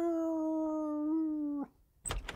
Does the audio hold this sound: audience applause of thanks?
no